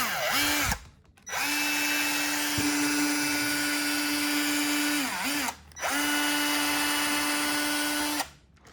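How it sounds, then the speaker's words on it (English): A power drill whines loudly and steadily for several seconds while drilling a hole in a shoe, pausing briefly twice with the pitch dipping as it slows, then spinning back up. "So I'm going to go ahead and drill."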